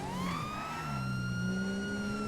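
A wailing emergency vehicle siren in a video game rises and sweeps steadily over a constant engine rumble, loud and close, with no voices.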